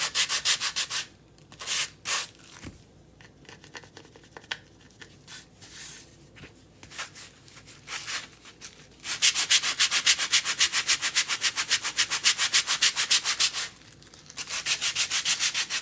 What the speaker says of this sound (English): Let's see if we could sand it off here.